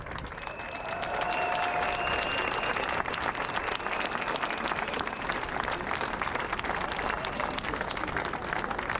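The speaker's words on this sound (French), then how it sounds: "les applaudir très fort" A crowd applauds at an anti-Macron protest rally on Place de Fontenoy in Paris, steady sustained clapping with some cheering, briefly joined by a whistle-like tone near the start.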